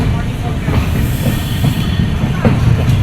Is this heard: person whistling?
no